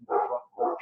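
Two quick, fairly loud barks from an indoor dog, a brief pause separating them, sounding close by with no talk over them.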